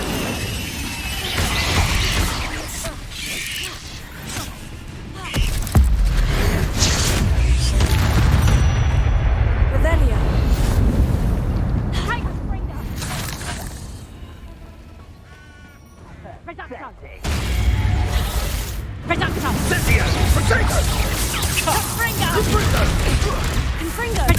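Fire and blast spells in Hogwarts Legacy detonate in heavy, rolling booms and crashes that swell and fade over a long stretch, with a brief lull midway and a voice speaking over the combat.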